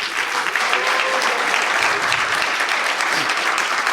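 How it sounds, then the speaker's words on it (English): An audience at a talk on professional Godot game development claps steadily in a dense, continuous round of applause that fills the room for several seconds. "Please give a round of applause for Maria, Rick, and Felix."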